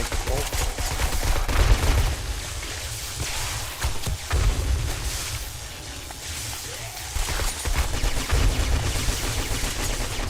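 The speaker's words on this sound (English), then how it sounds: "Man, these turrets are OP." Automated turrets fire in the zombie survival game 7 Days to Die with the Darkness Falls mod, a steady dense rattle of rapid shots with sharp impacts that runs loud throughout with little letup.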